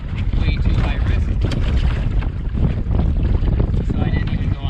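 Strong wind buffeting a canoe on a lake, a steady loud roar of gusts and rushing air over the water throughout, close and continuous.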